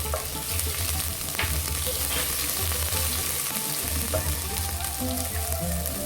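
Coriander powder and ground pepper fry in a pan for hot and sour chicken soup, making a loud, continuous sizzle with a low hum running underneath and no talking.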